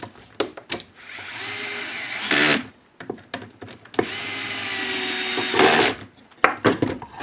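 Power tool bursts tightening nuts on lithium-ion battery pack terminals, close and loud: two sustained whirring runs of about a second and a half each, surrounded by sharp clicks and handling knocks.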